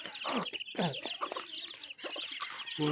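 Chicks 15 to 20 days old cluck and chirp close by in a busy, overlapping chatter of short calls, with brief quiet gaps between bursts.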